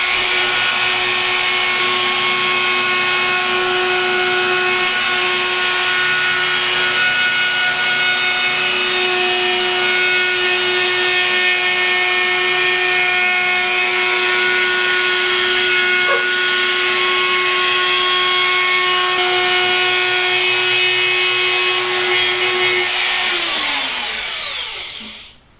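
A power tool chamfers the edge of an edge-grain wooden cutting board, giving a loud, steady high whine that runs unbroken for about 25 seconds before winding down at the end, with no talking.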